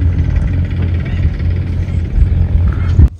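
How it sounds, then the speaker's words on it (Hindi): A tractor drives past, its low engine rumbling steadily throughout, a heavy motor chugging nearby and holding a constant level, with a sharp click right at the end. "वो सामने जा रहा है ट्रैक्टर,"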